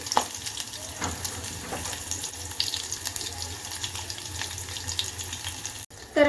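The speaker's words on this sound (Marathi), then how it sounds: "कांदा तेलात मध्ये टाकून घेतलाय आणि आता टाकायचं हे वाटण" Chopped onion frying in hot oil for peas rice, with green chilli paste added: a continuous close hiss and crackle with scattered spatters and a sudden louder burst at the very end.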